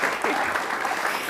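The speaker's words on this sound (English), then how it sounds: "go ahead and clap for that one" A seated audience at a talk with Priyanka Chopra breaks into applause, a dense, even burst of clapping heard alone for a brief moment.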